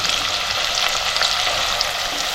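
Chopped onion frying in hot oil inside a pressure cooker, a loud close continuous sizzle and crackle with no talking.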